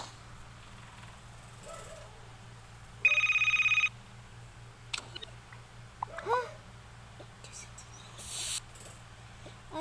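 A telephone rings indoors with one short, bright electronic burst of about a second, followed by quiet household shuffling and faint voices at a low level.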